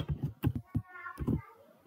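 Keys clack in quick irregular bursts on a computer keyboard while writing a program in the Dev C++ editor, close and moderately loud, with faint background sounds between strokes.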